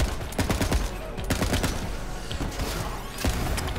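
Rapid bursts of automatic fire from the Dahl Star Helix assault rifle in Borderlands 3, loud, dense repeated shots in quick volleys with short pauses between them, with game effects layered underneath.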